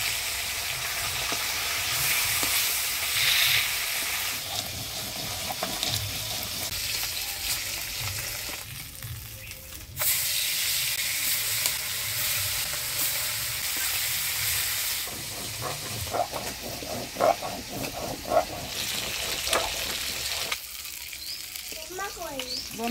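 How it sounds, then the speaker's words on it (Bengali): Khaira fish frying in hot oil with turmeric and salt, a steady broadband sizzle that fills most of the stretch, with a brief dip partway and some faint voices and clatter toward the end. "মাছটা ভাজা বসিয়ে দিলাম।"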